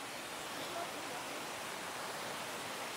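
A river flows in a steady, broad rush of water noise that fills the whole stretch evenly, close and continuous, with no distinct splashes.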